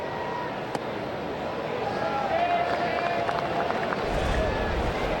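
Crowd noise fills a baseball stadium, Kauffman Stadium in Kansas City, during a Yankees–Royals game as fans react to a defensive play by the shortstop: a steady roar of cheering swells slightly midway, with announcers talking over it.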